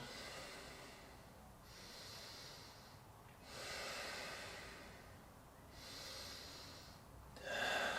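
Deep, slow breaths in a guided breathwork exercise, each long inhale and exhale rising and fading in a steady rhythm of about four cycles, close and breathy with a sharp final intake, no talking.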